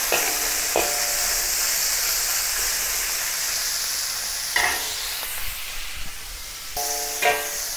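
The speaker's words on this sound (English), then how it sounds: "I'm going to put the shrimp into it, pan fry it for about half a minute on one side" Shrimp pan-frying in hot oil in a wok over medium-high heat. A steady, loud sizzle runs throughout, with a few sharper bursts of crackle and clatter where the shrimp are moved.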